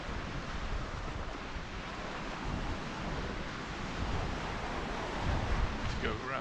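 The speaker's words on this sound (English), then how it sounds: "the lovely sound of the waves crashing on the rocks" Steady roar of surf washing against rocks at Camp de Mar, Mallorca, broad and continuous with swelling surges, mixed with wind rumble on the microphone.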